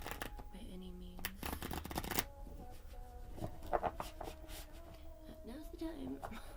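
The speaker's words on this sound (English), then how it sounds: "I just shuffled." Tarot cards being shuffled by hand at close range, a run of crisp riffling bursts and soft slides, with someone talking quietly in between.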